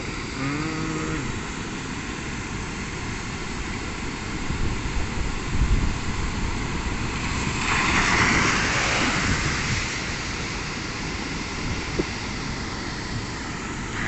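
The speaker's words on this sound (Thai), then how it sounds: "อ่างเก็บน้ำห้วยยาง น้ำก็ตกโจกๆแล้วจ้า" Rainwater rushing over the spillway of the Huai Yang reservoir in Huai Thap Than, Sisaket, a steady broad roar with a louder surge midway, no talk.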